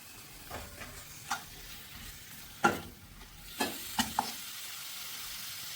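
Small pieces of chopped chicken sauté in masala for a Kerala-style chicken thoran, a low steady sizzle with a few sharp utensil clicks and scrapes against the pan, close and fairly quiet, no voices.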